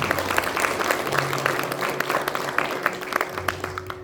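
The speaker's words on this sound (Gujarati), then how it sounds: "એકવાર જોરદાર તાળીઓ થઈ જાય" An audience at a religious gathering in Vancouver claps loudly and continuously, dense applause of many hands filling the hall throughout.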